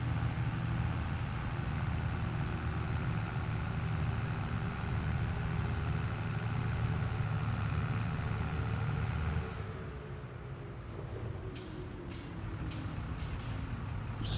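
A tractor engine idling in Farming Simulator 22 gives a steady, droning hum that drops quieter after about nine seconds, followed by a few short, high beeps near the end.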